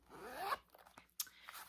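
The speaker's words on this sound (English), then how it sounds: "You got back here, you got a little zipper pocket" A zipper on the pocket of a vintage bag runs in a quick rising zip, then after a short pause a second brief sharp zip follows, close and fairly quiet, with no talking.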